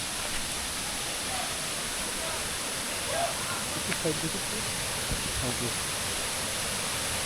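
Water running over rocks in the Ajodhya hills of Purulia, a constant broad wash of flowing water heard from nearby, with faint brief voices underneath.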